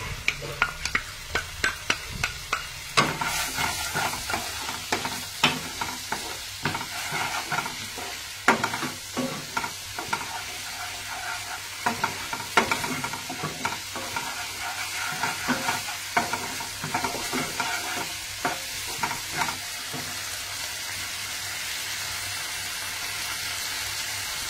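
Almond paste being stirred and roasted in a hot pan, a constant hissing sizzle with a long run of irregular spoon scrapes and knocks against the metal, loud and close, with no talking.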